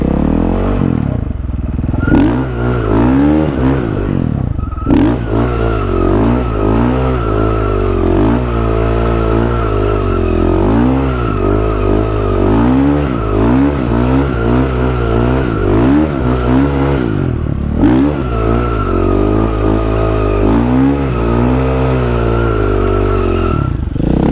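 Supermoto motorcycle powersliding in wide circles, its engine droning loud and steady with revs rising and falling, a brief dip as the brake locks before the bike skids and accelerates again.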